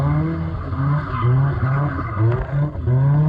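A Caterham sports car drifting through a cone course onto a 360 spin at Silverstone, its engine droning loud and close with rising and falling pitch as the tyres squeal and skid.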